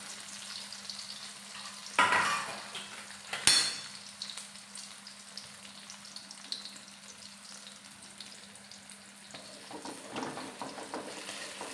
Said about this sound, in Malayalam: ഇങ്ങനെ കുറേശ്ശെ ഇട്ട് നമുക്കിതൊന്ന് നല്ല ക്രിസ്പി ആയിട്ട് വറുത്ത് കോരിയെടുക്കും